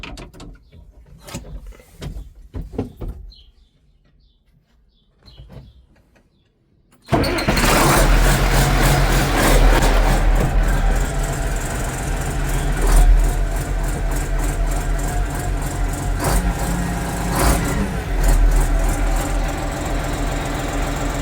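A Case 1570 tractor engine cranks and catches after a quiet stretch, then runs loud and steady with a rough mechanical idle that continues to the end.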